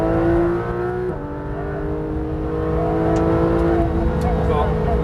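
A Porsche 991 GT3 RS accelerates at full throttle on the Le Mans circuit, its loud, close engine note holding a sustained rising roar through a gear change, with a voice talking over it.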